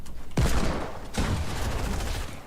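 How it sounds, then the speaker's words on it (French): Desert Eagle pistol shots in the video game Fortnite, two loud close blasts about a second apart, each with a booming echoing tail, no talk. "Je lui ai remis un shot d'eagle"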